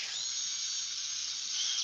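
An electric drill bores a hole through a wooden lace bobbin blank on a lathe, giving a steady, loud high-pitched whine that holds evenly for the whole stretch with no talking.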